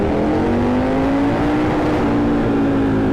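A Triumph Scrambler 1200 motorcycle engine revs in a tunnel, droning loudly and steadily, its tone rising slowly, with a boomy, enclosed echo.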